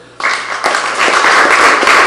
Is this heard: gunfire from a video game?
no